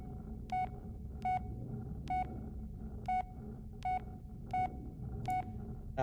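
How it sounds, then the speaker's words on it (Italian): A phone in the Blair Witch horror video game dials a number, giving seven evenly spaced electronic tones that beep at a steady pace over a faint background hum. "Stiamo chiamando il segreto telefonico"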